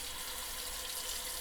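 Cold water running steadily from a kitchen tap into a bowl, a continuous even hiss with no other sounds over it.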